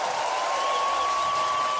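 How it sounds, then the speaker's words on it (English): An applause sound effect: a steady wash of clapping from a crowd, continuous and fairly loud throughout, with a faint tonal whine running underneath. "Oh, I'll give you the full applause on that one."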